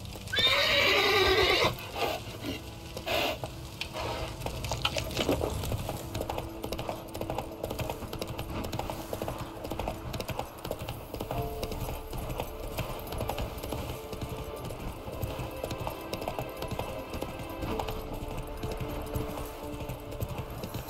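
A horse gallops in The Witcher 3: Wild Hunt video game, with a brief loud whinny at the start followed by steady rhythmic hoofbeats and game ambience.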